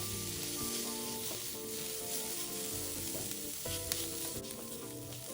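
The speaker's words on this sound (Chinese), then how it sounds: "一直煎至食材局部微微焦即可熄火" Sliced bitter gourd and onion sizzle steadily in a hot pan, a constant close crackling hiss with faint clinks of stirring, no voices.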